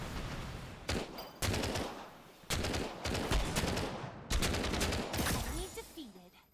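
In the video game First Soldier, rapid automatic gunfire crackles in several close bursts of sharp repeated shots, with a brief voice near the end.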